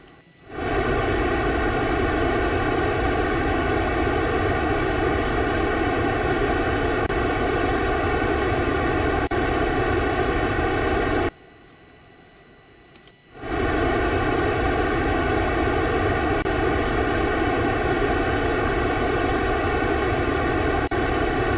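Sustained rocket engine burn in Kerbal Space Program, a steady loud roar with a faint tonal hum that runs continuously, cuts out briefly near the middle, then resumes just as loud until the end.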